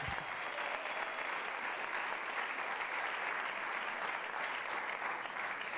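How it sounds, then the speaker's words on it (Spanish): Audience applause at a talk during FIU Barcelona 2015, a steady even wash of clapping from a large crowd that holds level throughout, heard from some distance. "Un aplauso, por favor, para ellos."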